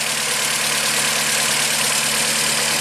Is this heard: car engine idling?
yes